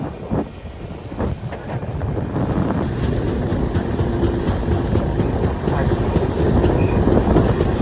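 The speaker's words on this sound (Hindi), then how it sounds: "अभी हमारी ट्रेन जो नीचे से जा रही है ये गोल घूम के इसी ब्रिज के ऊपर से जाएगी" The Veerbhumi Express runs on the tracks near Ratlam, heard from onboard as a loud continuous rumble with wind buffeting the microphone and faint clattering from the wheels.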